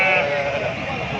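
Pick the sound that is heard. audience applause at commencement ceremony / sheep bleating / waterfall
sheep bleating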